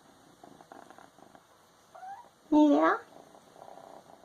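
A kitten purrs softly and steadily up close, with a short voiced call and a brief spoken word partway through.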